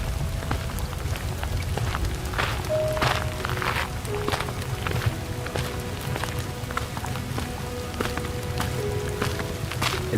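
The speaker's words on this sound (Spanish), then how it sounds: "El sonido de sus botas al chapotear en los charcos se mezclaba con el constante martilleo de la lluvia sobre el pavimento" Steady rain patters on pavement while boots splash through puddles in a continuous wet, noisy wash, with scattered sharper drips and steps standing out close by.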